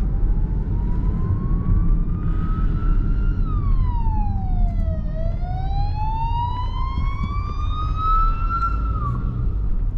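An emergency vehicle siren wails nearby, sweeping up and down in pitch over a constant road and engine rumble heard from inside a moving Skoda Superb, and it stays loud throughout.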